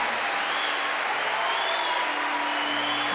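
Steady applause from a church congregation during a Catholic Mass homily, a dense even wash of clapping that holds throughout without any talk.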